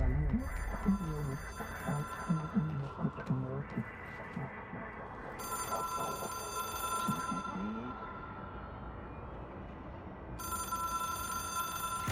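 An old telephone rings inside the game Control, its bell tone repeating in separated bursts over a low ambient hum, with someone speaking at the start.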